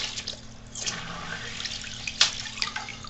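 A repaired submersible water pump runs in a dusty bathtub, giving a steady close watery churn and splashing hiss with a few brief drip-like ticks, no talking.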